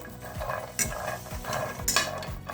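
Almonds dry-roasting lightly in a pan on a low flame, a soft rattle and scrape of stirring with a few metallic clinks of the spatula against the pan, close and quiet.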